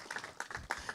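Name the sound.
round of applause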